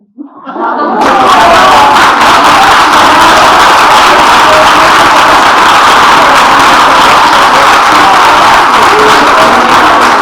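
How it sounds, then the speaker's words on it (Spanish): Audience applause at a book event with a writer, starting abruptly and swelling into sustained, dense clapping that carries on steadily and loudly to the end. "Este aplauso que ha sido mucho más que un aplauso."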